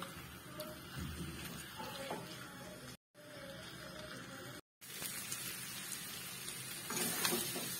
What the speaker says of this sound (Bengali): 5 মিনিট এইভাবে আমি ভালো করে এটাকে নাড়িয়ে পুরো মশলাটাকে মাখিয়ে নেব